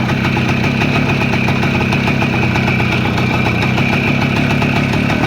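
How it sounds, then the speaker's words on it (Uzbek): A Voskhod motorcycle engine idles close by, a continuous low rumble with a faint rattling texture and no change in pace throughout. "motorlarga quloq solib ko'ring."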